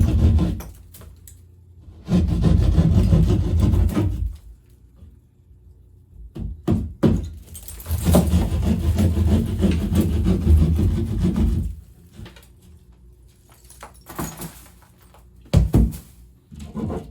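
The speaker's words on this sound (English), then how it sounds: "Just taking a utility saw, and I'm going to cut this damaged area out." A handheld utility saw cuts out a damaged patch of drywall in rough, rasping strokes, with long loud bursts of sawing separated by pauses and a few sharp knocks, all close by.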